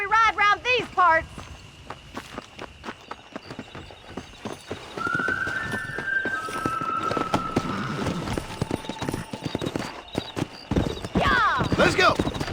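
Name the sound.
horse riding in video game Red Dead Redemption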